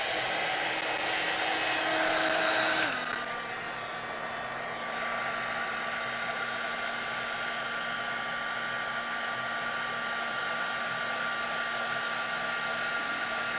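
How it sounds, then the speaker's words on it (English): Heat gun blowing on texture paste, a steady whining hiss that drops in pitch after a few seconds and then holds constant and fairly close, with no voices. "because you're doing it with the heat gun and not letting it dry by air"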